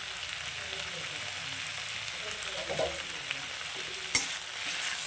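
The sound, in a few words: stirring frying fish head with coriander leaves in a pan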